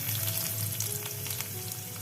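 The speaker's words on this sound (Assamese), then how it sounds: "শুকান জলকীয়া আৰু নহৰুখিনি ভজা হৈ গৈছে" A dried red chili and crushed garlic fry in hot oil in a kadai, giving a close, continuous crackling sizzle that holds steady throughout, with no talking.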